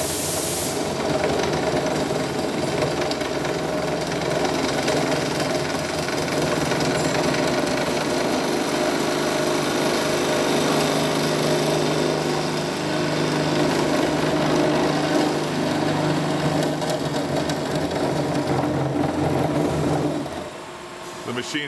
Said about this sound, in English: Saw, it's a pneumatic quick feed to the material, and then a controlled rate through. We're cutting, like I say, at 54 RPM.